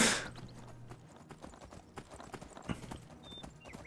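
Horse hooves clip-clop on hard ground in an uneven gallop in the video game Skyblivion, with a brief whinny near the end and some scattered clatter.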